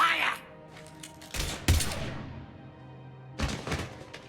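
Gunfire breaks out in the Mass Effect 3 video game, with sharp, close shots at about one and a half seconds and another burst near three and a half seconds, each trailing off between the shots.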